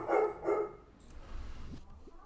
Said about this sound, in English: Why must you bark?